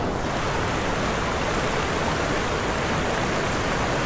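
A strong stream current rushes steadily beside a fishing spot, a loud, dense wash of water noise that stays constant throughout without any voices.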